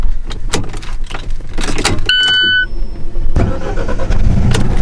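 Alfa Romeo 4C with a dual-clutch automatic cranking hard and struggling to start, short bursts of starter whir and chime tones inside the cabin before the mid-size engine finally catches and settles into a loud, steady run.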